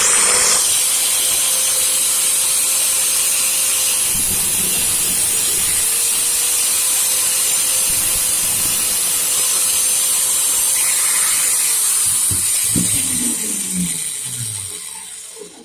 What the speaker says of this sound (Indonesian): saya akan memotongnya kembali menggunakan gerinda